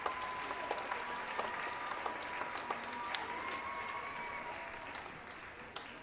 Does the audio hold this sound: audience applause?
yes